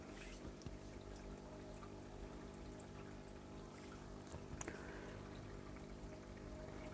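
Water pours steadily into a planted aquarium during a tank clean, a soft continuous trickle and gurgle with a low hum underneath and one brief splash near the middle.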